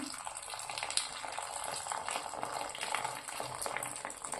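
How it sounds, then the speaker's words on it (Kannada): Boiled hot water being poured for making jowar roti dough in a North Karnataka kitchen, a soft continuous bubbling and splashing liquid sound, faint and close, with no speech. "ಈಗ ಈ ಬಿಸಿನೀರು ಕಾದು ಬಿಸಿನೀರು ಹಾಕತೀನಿ"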